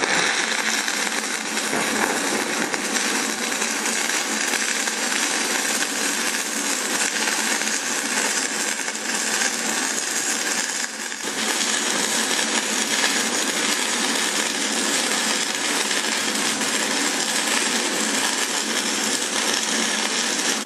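A 6011 stick rod burns on DC from an Everlast PowerUltra 205P multi-process welder, a steady, dense crackling and sizzling arc that holds on loud and close for the whole stretch, with no talk.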